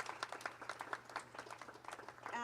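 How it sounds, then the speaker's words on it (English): Faint, thin round of applause from a school board meeting audience recognizing staff, a few scattered hands clapping at an uneven pace under a steady low hum. "If we could please give them a round of applause."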